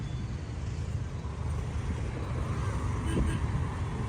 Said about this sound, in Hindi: ट्रैफिक की ये लंबी लाइन देखिए कहाँ तक है